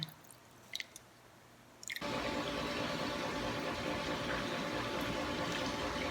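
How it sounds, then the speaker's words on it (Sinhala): Water is drained from soaked bean sprouts, a couple of faint drips and clinks at first, then a sudden steady rush of pouring liquid that continues evenly, close and alone without talk. "බීන් ස්ප්‍රවුට් එකේ වතුර ටික මේ විදිහට පෙරලා අරගන්න."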